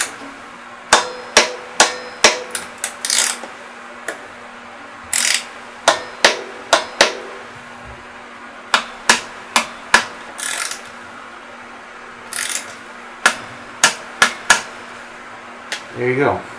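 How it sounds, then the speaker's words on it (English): Sharp metallic clicks and taps come from a torque wrench tightening a bolt on a Fox Nude shock of a Scott Spark RC mountain bike, arriving in irregular bursts of separate ticks against a quiet background. "Now you're going to want to use a torque wrench. Set it to 10 Newton meters."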